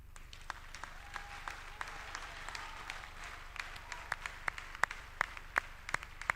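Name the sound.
applause at a convocation ceremony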